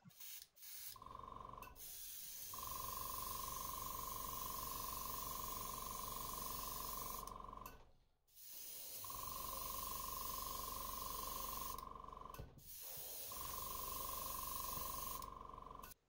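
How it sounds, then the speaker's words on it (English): An airbrush sprays chartreuse paint over a hardbait fishing lure in long steady hissing bursts, four passes separated by short pauses, close and loud with no voices. "I'll be covering the entire lure with chartreuse"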